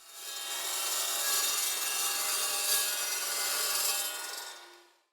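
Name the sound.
chop saw cutting rods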